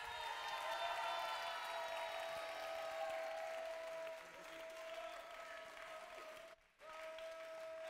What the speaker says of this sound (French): Je vous demande encore un tonnerre d'applaudissements.